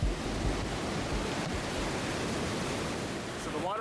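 Rhine Falls, the broad 23-metre-high waterfall in Switzerland, roars steadily in misting rain on a cloudy day, a constant dense rush of falling water with no breaks.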